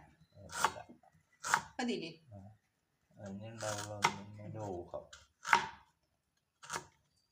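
A knife chops shallots, green chillies and ginger on a board in sharp irregular strokes, with a person speaking between and over the cuts.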